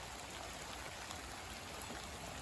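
Creek water rushes steadily in the woods behind a house after a day of rain, running high: a continuous, dense wash of flowing water with no breaks.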